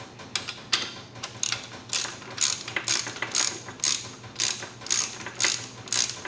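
Ratcheting mechanism on a VEVOR 1322 lb transmission jack being tightened, a quick series of sharp metallic clicks in uneven bursts, close and fairly quiet, with no voices.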